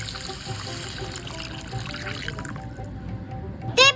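Water pours and trickles steadily into a frying pan holding a beef bharta mixture, over a faint background hum, ending with a couple of sharp clinks.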